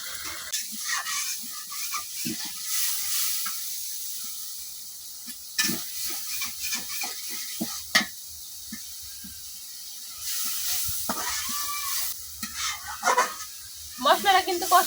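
Spice paste frying and being stirred in a pan while cooking silver carp with cucumber in a village kitchen, a steady close sizzle with scraping stirs, paused briefly partway, and a voice talking over it.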